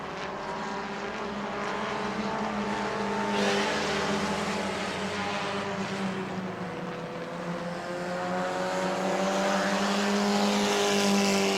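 Race cars roar around the New Smyrna track during a family fun night event, engines droning loudly with rising and falling pitch as cars pass, several overlapping passes building into a continuous, sweeping racing sound.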